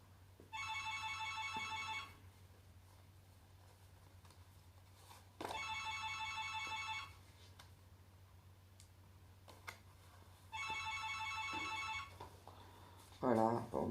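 A telephone rings three times in long bursts of about two seconds each, with a bright electronic trill separated by pauses, over a steady low hum indoors, followed by a short clatter at the end.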